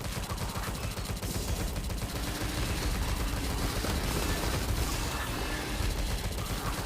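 Tommy guns fire in the Tesla vs Lovecraft shooter game, producing dense, continuous rapid bursts of loud automatic gunfire throughout with no talk.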